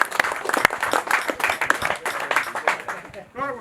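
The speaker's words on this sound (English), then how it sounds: "big round of applause to all the companies who've supported this event" An audience at a fishing match prize-giving claps for supporting companies in dense, steady applause, with a person talking over it and then a brief whistle-like tone near the end.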